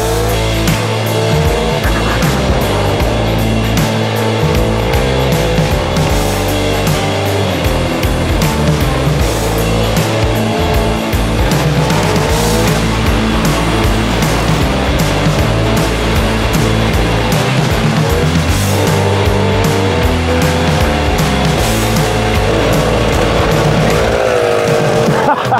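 A moped with a Sachs 50/4 LKH engine runs and rides, its small two-stroke motor buzzing loudly and rising and falling in revs throughout, with people talking at times.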